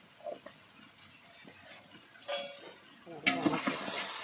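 Masala with biryani powder and a little turmeric being stirred in a cooking pot, with soft scraping and clinks of a utensil building into a louder, busier stirring burst toward the end over a faint sizzle.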